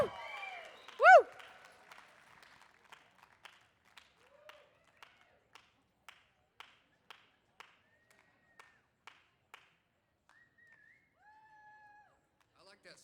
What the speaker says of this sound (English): I like that slow clap. Keep the slow clap going